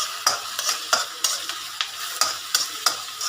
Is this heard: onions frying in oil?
yes